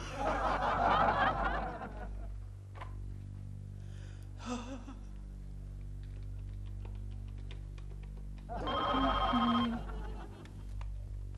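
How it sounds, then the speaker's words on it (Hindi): A telephone rings during a phone call in a Hindi sitcom scene, sounding as a repeated tonal ring with gaps between bursts, while a voice gasps and snickers over it. "लेकिन मरने से पहले प्रेमा जी को फोन कर लेता हूं।"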